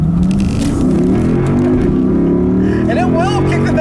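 A 2012 Lexus IS F, a rear-wheel-drive sports sedan, accelerates hard with its rear end sliding out, the engine droning loud and steady over tire noise while a person talks throughout.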